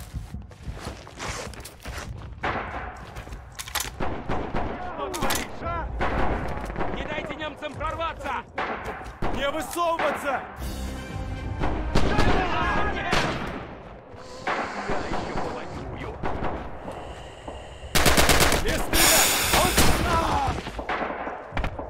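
Gunfire and artillery in the World War II shooter Red Orchestra 2 bang out in loud, irregular bursts of rifle and machine-gun shots with heavy explosions, footsteps between them and someone speaking over the action.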